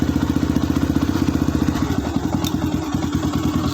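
Yamaha Vixion supermoto motorcycle engine running close by with a steady, rapid pulsing thump, briefly rising as the throttle is opened, with no talk over it.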